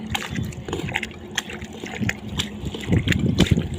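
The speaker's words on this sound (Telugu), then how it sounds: "దీనిలో చేయి పెడుతుంటే నీళ్ళు ఏడవుతాయి చూడండి" Water splashes and sloshes in short irregular bursts, close by, as a hand stirs through it.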